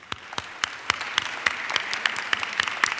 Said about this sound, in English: will you please join me in a round of applause for the student leaders at the Westminster schools